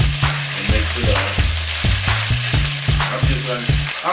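Food sizzling in a frying pan in a home kitchen, continuous loud crackle punctuated by repeated sharp scraping or stirring strokes, with no talking.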